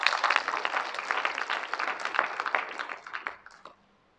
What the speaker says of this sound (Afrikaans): ek wil sê om 'n hande klap asseblief